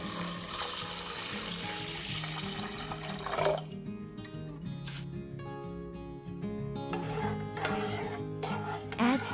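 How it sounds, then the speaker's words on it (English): Water pouring from a tap into a pot of bulgur in a kitchen, a splashing gush for a few seconds followed by quieter trickles and clinks. "Fill with water."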